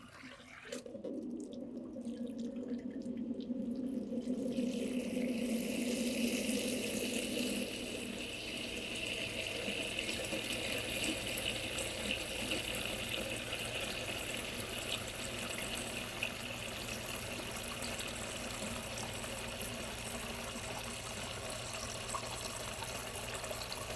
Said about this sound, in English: We want to make sure that the bath water is warm.